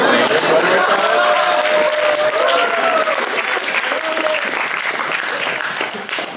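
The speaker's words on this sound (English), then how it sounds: "Why y'all clapping for that?" A comedy show audience bursts into sustained clapping and cheering, a loud dense wave of applause that slowly tapers off over several seconds, with voices mixed in.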